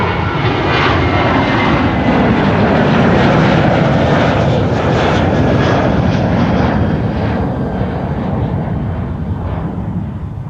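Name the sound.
Boeing 737 jet airliner at Amsterdam Schiphol Airport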